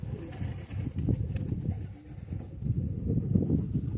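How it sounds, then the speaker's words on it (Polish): Domestic pigeons coo in low, repeated throaty calls as they are let out of the loft in autumn, steady and nearby, with faint background noise. "czemu wypuszczam gołębie teraz jesienią"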